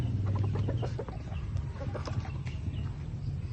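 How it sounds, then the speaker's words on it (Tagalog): Chickens clucking on a farm, a steady mix of overlapping calls from several birds close by, continuous through the whole stretch with no talk. "Painom ng manok tayo."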